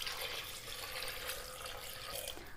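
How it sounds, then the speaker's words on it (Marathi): Water pours steadily onto chickpeas with salt and spices in a pressure cooker, a soft continuous splashing stream heard close and alone. "आता पाणी टाकूया"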